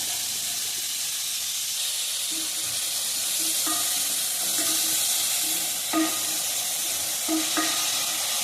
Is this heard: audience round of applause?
no